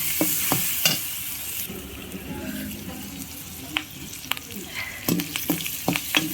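Tender bottle gourd curry with garlic paste is stir-fried with a continuous sizzle, and a utensil knocks and scrapes against the pan in scattered clacks.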